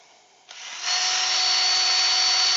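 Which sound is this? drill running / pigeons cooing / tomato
drill running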